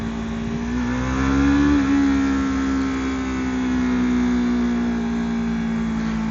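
A 2023 Yamaha YZF R3 motorcycle engine holding a steady, droning hum with a slight rise in revs and then a settle, heard close up and alone without talk.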